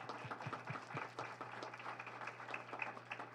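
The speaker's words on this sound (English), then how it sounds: "Can we get a round of applause for Michael as well?" Moderately loud applause from a small community audience at a talk, with claps of uneven rhythm running continuously throughout over a low steady hum.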